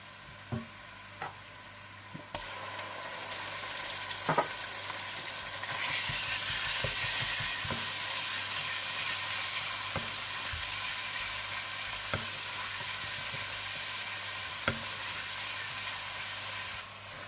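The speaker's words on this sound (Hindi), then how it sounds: "आप इसमें अदरक लहसुन डालकर भून लीजिएगा" Ginger and garlic fry with golden-browning onions in a chicken and potato curry, a steady close sizzle that swells louder partway through, punctuated by occasional sharp clinks of a spoon against the pan, no speech.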